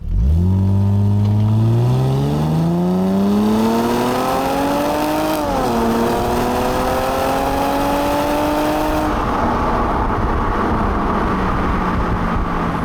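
A Mercedes-Benz SLK350 engine revs hard and climbs steadily in pitch through automatic gear changes, a loud, close, sustained acceleration roar that eases off near the end.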